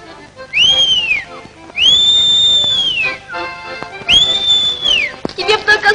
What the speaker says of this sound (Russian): Тебе б только свистульки играть.